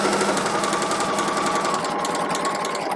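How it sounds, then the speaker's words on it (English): A sewing machine stitches a tote bag seam at a 1/4 inch seam allowance down to the bottom edge, giving a steady, close, continuous mechanical whir with a fast rattling pulse throughout. "you're just going to sew down to that bottom edge"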